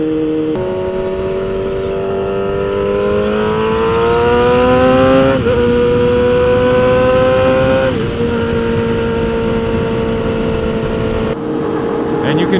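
A motorcycle engine pulls hard through the gears with clutchless shifting, its steady rising drone stepping down in pitch at quick shift points. It is loud and close, running almost continuously before cutting off sharply near the end.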